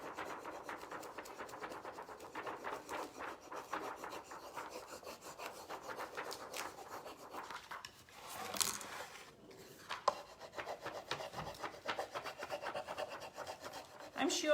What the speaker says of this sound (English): So I'm going to rub it right here and see, and keep on lifting the sheet so I know the transfer is going right onto the wood.